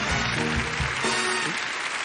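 Audience applause as someone is invited onto a stage: a wash of clapping heard through loud music, with a crowd murmur underneath, lasting about two seconds.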